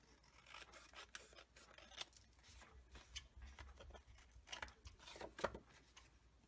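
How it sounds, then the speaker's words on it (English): Scissors snip along the border of a sheet of paper for a December Daily scrapbook page, with a close run of repeated cuts and rustling paper and no talking. "I'm just going to cut along the border here"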